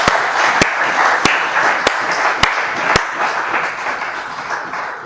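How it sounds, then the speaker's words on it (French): A hall audience applauds to welcome a bishop, steady dense clapping with a few sharp regular claps or taps standing out near the start, sustained and loud throughout. "On l'accueille d'abord en acclamant,"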